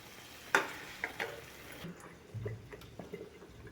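Mushroom masala gravy cooking in a pan: a sharp clink near the start, then soft stirring scrapes and faint bubbling over a steady low sizzle, close and quiet, with no talking.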